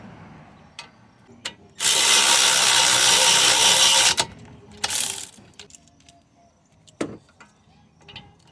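A power tool with a 15 mm socket drives a brake caliper bolt on a Chevy Malibu: one loud, close two-second burst, a shorter follow-up burst, then scattered clicks and clanks.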